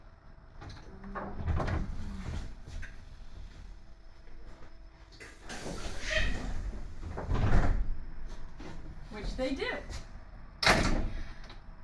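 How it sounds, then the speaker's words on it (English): The front and rear doors of a New Flyer bus open and close in several pneumatic hisses and thuds, spread across the stretch, while someone talks over them. "I'll check to make sure that my front and rear doors open and close properly."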